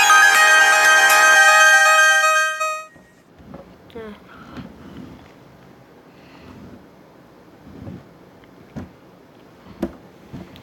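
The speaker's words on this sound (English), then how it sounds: "The ringtones." A Samsung Galaxy Note FE ringtone plays as a bright, tonal electronic melody for about three seconds, then cuts off, leaving faint wind and scattered handling noises.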